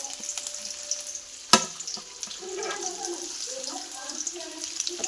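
Ginger, garlic and chillies frying in oil for hakka noodles make a soft, low crackling sizzle, with one sharp clank partway through and faint voice-like murmurs underneath.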